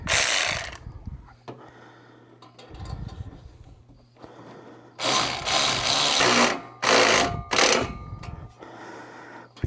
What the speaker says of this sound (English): Now we need to tighten our V-band.